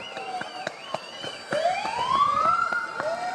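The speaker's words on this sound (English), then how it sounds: "Maybe we'll get a siren out of him." A sheriff's department patrol vehicle at a holiday spirit parade in Carpinteria sounds its siren, a rising wail that swells and climbs over crowd noise and scattered clapping.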